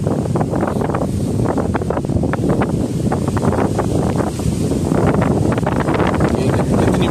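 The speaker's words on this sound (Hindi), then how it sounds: "हवा बहुत तेज, बहुत तेज हवा" Strong wind buffets a microphone outdoors on a dusty Balochistan road trip, a constant loud rumbling roar with gusty bursts throughout, no clear speech over it.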